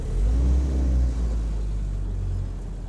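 A 77-year-old Willys jeep creeps forward in gear with the throttle off, its engine making a deep, steady, close low rumble that eases slightly partway through, with no one talking.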